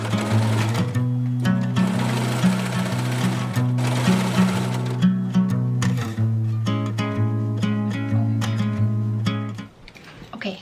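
A sewing machine stitches a skirt lining and elastic waistband in long rapid runs with a steady mechanical hum, briefly pausing and restarting in shorter bursts before stopping near the end.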